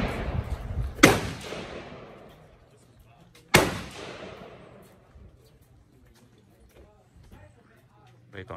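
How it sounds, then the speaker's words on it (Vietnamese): At an outdoor shooting range at Wilson Shoals WMA, two loud rifle shots ring out a couple of seconds apart. Each sharp crack rolls away in a long echoing tail over quiet background noise. "Mọi người đang bắn."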